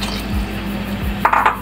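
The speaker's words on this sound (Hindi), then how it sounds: "साथ ही हम इसमें डाल देंगे पानी आलू के जितना" Water poured into a cooking pot of potatoes and boiled black chickpeas for a curry, a short liquid splash and gurgle with a couple of soft low thumps, close and fairly loud, no talk.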